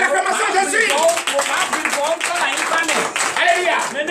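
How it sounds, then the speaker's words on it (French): Congregation at a night deliverance and prophecy church service breaks into clapping and acclamation, loud uneven hand claps mixed with shouting, laughing and excited voices throughout. "Donnez l'acclamation"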